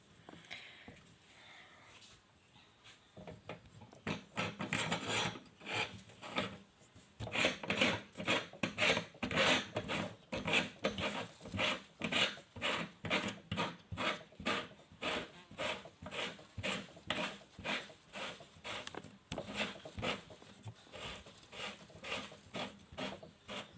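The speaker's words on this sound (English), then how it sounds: "let me just go ahead and scrape this off so I can see what I got going on." Plumber's putty being scraped off a fitting, a long run of rhythmic rasping strokes close up, steady back-and-forth scraping after a quieter start.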